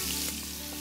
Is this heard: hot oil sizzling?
yes